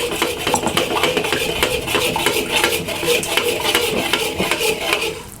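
A spatula scrapes and clatters rhythmically against a metal wok while stirring rice and egg for shrimp fried rice, a close, steady run of quick metallic taps and scrapes with no voices.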